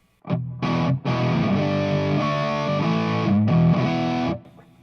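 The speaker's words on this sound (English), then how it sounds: "you can get more of a distortion by simply taking the bass out before it's clipping" An electric guitar plays chords through a thick fuzz pedal, the tone heavily distorted and buzzing, with short gaps between the opening strums before sustained chords.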